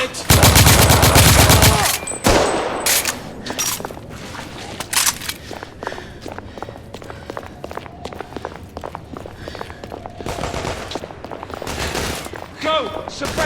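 Gunfire in a chaotic firefight in The Order 1886, a loud opening burst of automatic fire followed by scattered shots, impacts and footsteps, with voices shouting amid the action.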